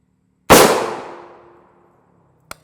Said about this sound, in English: This is a Russian armor piercing incendiary load.